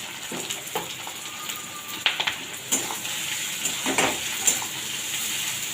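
Shrimp heads and their fat fry in a pan, giving a continuous crackling sizzle with scattered sharper pops and a few clinks of a stirring utensil.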